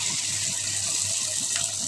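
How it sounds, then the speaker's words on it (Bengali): Water poured into a pan of frying tengra fish for bhuna, a steady hissing gush and bubbling, close and continuous, with no talking. "মাছগুলো দিয়ে আবার জল দিয়ে দেবো, জলটা দিয়ে দিই।"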